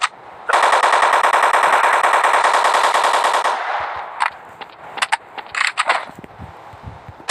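Loud, rapid automatic gunfire in a zombie video game rattles continuously for about three seconds, then gives way to scattered single shots and impacts.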